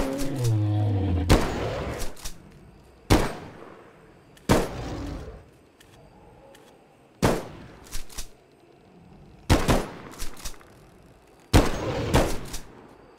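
Gunfire in the video game Bigfoot, sounding as about six loud, sharp bursts spaced every second or two, each trailing off before the next, with no voices.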